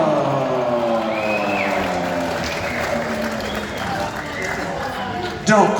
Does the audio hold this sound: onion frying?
no